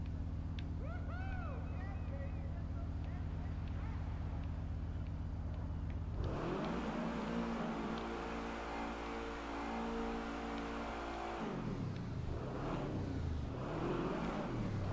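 A car engine in Grand Theft Auto V, from the Import/Export update and fitted with a racing interior, revs up loudly and holds a strained roar before dropping off, with someone talking over the start.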